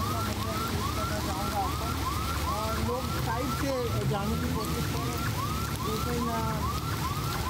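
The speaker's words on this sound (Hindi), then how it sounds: "पीछे से हमें एम्बुलेंसेस की भी आवाज़ें आ रही थीं" Ambulance sirens wail repeatedly in fast rising sweeps along a flooded Karachi street, steady and fairly loud over constant traffic and water noise, with a voice briefly speaking.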